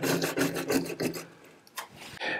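A soft dish brush scrubs the small holes of a washing machine's detergent drawer, with quick rhythmic rasping strokes, a brief pause, then a few more rubs, close and alone.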